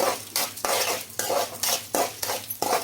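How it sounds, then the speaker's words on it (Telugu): Cumin seeds frying in a pan while a spoon stirs them, a steady series of about eight scraping strokes over a soft sizzle, close and with no talk. "వన్ స్పూన్ అయితే జీలకర్ర అండి కొని బాగా ఫ్రై చేసుకోవాలండి"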